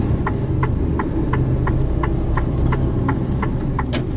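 Heavily loaded truck hauling about 23 tonnes of beer, its engine droning steadily as it strains to pull away, with a low rumbling hum throughout and faint regular ticking pulses over it.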